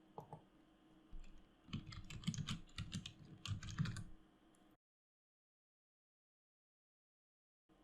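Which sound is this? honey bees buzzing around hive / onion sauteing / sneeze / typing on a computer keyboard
typing on a computer keyboard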